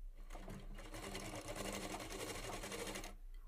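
A sewing machine hums fast and continuously for about three seconds while stitching a seam on a suit, then stops abruptly.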